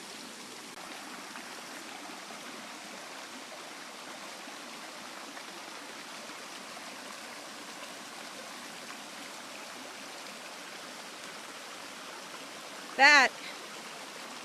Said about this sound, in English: where the water's flowing in